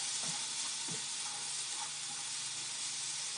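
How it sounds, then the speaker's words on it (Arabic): Chopped onions frying in a hot pan for a crustless quiche, giving a steady, close sizzle with faint stirring clicks and no talk. "صافي نخليو البصله ديالنا طيب مزيان"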